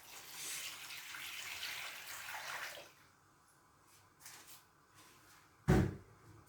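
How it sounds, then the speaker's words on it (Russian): Water pours steadily with a soft rushing splash for a few seconds, then stops, followed by quiet handling sounds and a sharp knock. "литр воды, видите, теплой воды"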